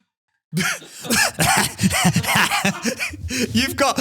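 A few coughs and throat-clearing sounds mixed with a voice, close to the microphone, in bursts after a short silence.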